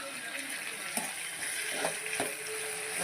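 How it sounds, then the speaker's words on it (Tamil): Tomato and onion sautéing in a pan for Tamil-style chutney, giving a soft, steady sizzle with faint stirring scrapes and a few light clicks of a spoon against the pan. "தக்காளி கொஞ்சம் போட்டு நல்லா வணக்கிக்கலாம்"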